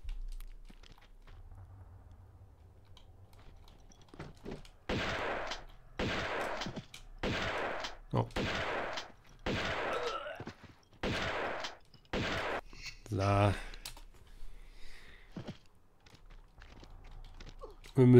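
Shotgun blasts from Tomb Raider 2 boom out in a regular series of about eight loud, evenly spaced shots, each followed by a short tail, against quiet game ambience.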